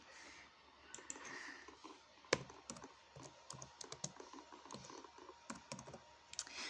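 Quick bursts of clicky keystrokes on a computer keyboard, irregular and close but quiet, with short pauses between runs of typing.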